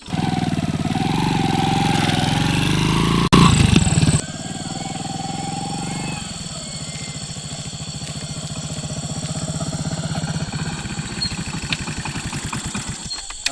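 A motorcycle engine runs steadily and fairly loud at close range in a village setting, with a brief louder burst near the start and then a continuous idle-like drone.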